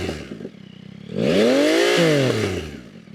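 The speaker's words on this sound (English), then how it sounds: "really, really hear that inline 3 come to life with this Kelpi pipe" A 2025 Yamaha MT-09 SP inline-three fitted with a stainless Kelpi Moto exhaust idles with a choppy burble, then snaps into one loud, sustained rev that climbs, holds and falls back toward idle, close up.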